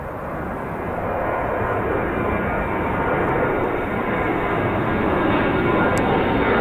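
An Emirates airliner at Birmingham Airport, a steady broadband jet roar that swells slightly and holds loud and close throughout, without speech.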